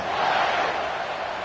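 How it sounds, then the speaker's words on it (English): A stadium crowd in College Football 26 keeps up a dense, steady roar right after a touchdown, loud and continuous with no distinct voices. "this crowd is buzzing after that last score"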